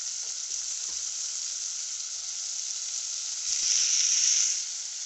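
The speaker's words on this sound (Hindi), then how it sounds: "प्याज मेरा भून चुका है, अब मैं इसमें डालूंगी टमाटर।" Tomatoes and capsicum sizzling in fried onions, a steady close frying hiss that swells louder for a moment as the vegetables hit the hot oil, with faint stirring clicks.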